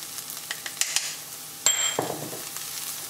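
Curry and chili powder stirred into a frying pan for a Sri Lankan shrimp curry, light sizzling under a few scrapes and clinks of a utensil, with one louder scrape near the middle.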